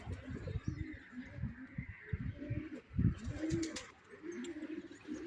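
Pigeons coo close by in a series of low, throaty, pulsing calls, with a few faint chirps mixed in.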